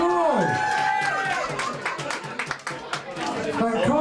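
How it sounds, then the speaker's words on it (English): A crowd at a charity draw and auction in Bampton, Oxfordshire claps in a burst of applause, with voices and chatter mixed through it. "Big round of applause."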